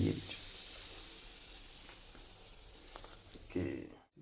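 Tea boils over on a kitchen stove, giving a steady, close hiss and sizzle that carries on for a few seconds before cutting off abruptly.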